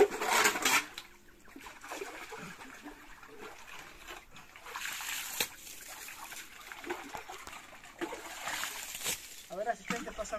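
Water scooped out by hand and poured back, with intermittent splashes and trickles at close range over about ten seconds, with people talking.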